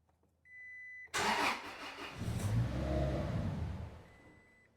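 A Toyota Tacoma with the 2.7 engine and a crank-no-start, lean-running fault: a brief faint whine, then a sudden loud crank that catches into a rising rev and settles as the engine runs, all close by with no talk.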